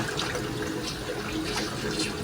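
Running tap water rinses raw chicken being cleaned for oven baking in a clay jar, a steady close splashing stream with no voices.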